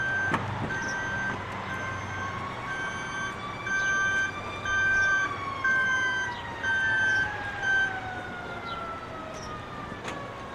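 An ambulance arriving at a drunk driver crash simulation sounds its siren, a sustained wailing tone with regular repeating beeps, moderately loud and continuous above a low vehicle rumble.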